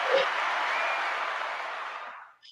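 Audience applause greets guest Maximus Wright, a broad, even wash of clapping that swells quickly, holds steady, then cuts off abruptly.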